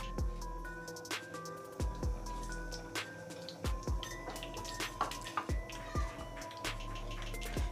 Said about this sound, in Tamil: 100 ml ஆயிலை சேர்த்துருங்க.